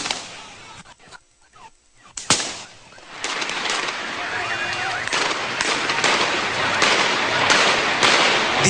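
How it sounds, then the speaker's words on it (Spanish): Rapid bursts of gunfire crackle at a street protest in Venezuela, with sharp reports following a brief lull and then giving way to sustained, loud, chaotic popping and crowd noise. "En este momento están disparando."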